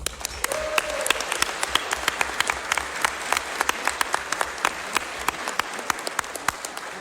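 An audience at a solemn session honouring the 40th anniversary of the Amnesty Law applauds, with crisp individual claps standing out over a steady patter that keeps an even pace throughout.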